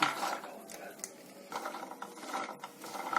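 A spoon stirs cashews roasting in a pan over very low heat, making soft, irregular scraping and light clinks. The sound stays quiet and close the whole time.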